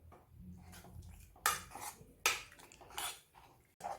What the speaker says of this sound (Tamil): பால் சேர்த்ததுக்கப்புறமா இது எல்லாத்தையும் நல்லா ஒன்றா கலந்து விட்டுக்கலாம்.